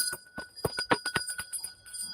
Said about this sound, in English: I have got a bell.